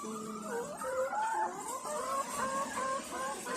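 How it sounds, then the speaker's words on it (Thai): Hybrid egg-laying hens on a farm cluck steadily in a close, chattering chorus, with rising and falling calls overlapping through several seconds and no talk. "อันนี้ก็คือไก่พันไข่นะคะ"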